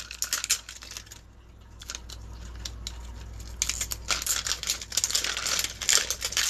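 Mini Brands miniature packaging is torn and crinkled open by hand, a close run of crackling plastic rips and rustles that grow denser and louder in the second half, with no talking.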